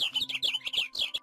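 Small birds in a Minecraft Mo Creatures world chirp in a quick run of bright, twittering calls, close and clear, with no voices over them.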